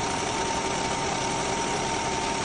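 A Ford Fusion 1.6 engine idles at its first start after a timing belt replacement, a steady, close, even drone with no speech.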